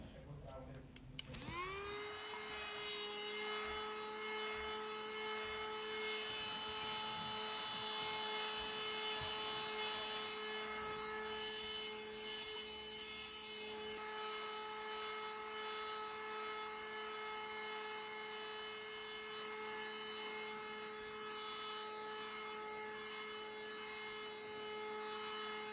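A cordless hand vacuum cleaner for home and car switches on and runs steadily, a loud close motor whine with strong tonal harmonics and airy suction hiss, constant throughout without pause.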